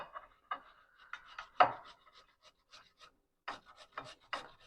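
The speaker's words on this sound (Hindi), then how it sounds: "बस इनको कद्दूकस कर लेना।" Boiled potatoes are rubbed over a grater, producing soft irregular rasping strokes, close and fairly quiet, with brief pauses between passes.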